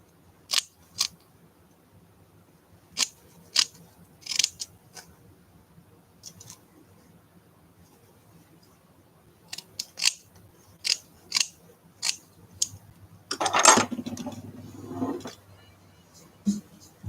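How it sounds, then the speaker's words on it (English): Scissors snip through art doll material in scattered crisp clicks, sometimes in quick pairs, with a brief rustle of handled material midway; close and fairly quiet. "These scissors are awful."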